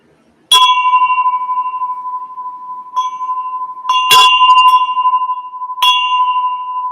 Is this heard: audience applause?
no